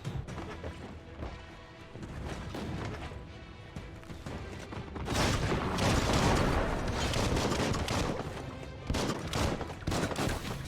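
Gunfire in the video game Biomutant: dense, continuous volleys of shots and crashing impacts that swell louder through the middle, with no talk.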